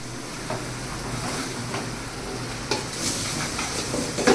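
Onions sautéing in a home kitchen pan for pepper chicken masala, a steady soft sizzle with scraping stir strokes and a few clinks, moderately close and without talk.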